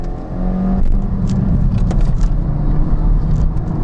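A tuned HKS Suzuki Swift with raised boost pulls hard on a test drive, its engine a loud, steady close-up drone rising in pitch. No one speaks over it.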